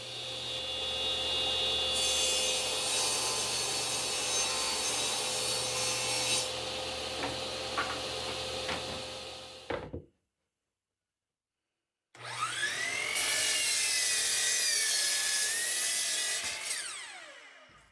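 Table saw ripping Baltic birch plywood, a loud sustained whining cut that runs for about ten seconds, stops abruptly into silence, then a second cut starts up, runs steadily and winds down at the end.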